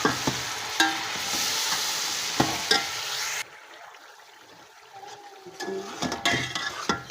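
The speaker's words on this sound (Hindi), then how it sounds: "2 बड़े साइज़ के टमाटर हैं, इनको भी अच्छे से फ्राई कर लेंगे" Grated tomatoes frying in a pan with loud sizzling and repeated stirring scrapes, the sizzle dropping off midway before stirring knocks pick up again.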